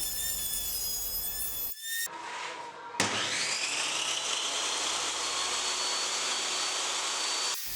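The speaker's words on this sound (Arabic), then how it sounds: "هنشتغلها على طاولة الراوتر ببونت الديل يمامة" A router table shapes wood for a dining buffet: the tool whines steadily as it cuts, with a short pause before a louder, sustained routing run that continues to the end.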